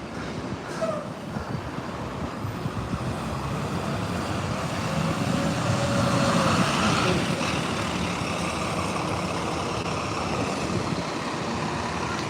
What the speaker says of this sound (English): There's a Georgetown bus.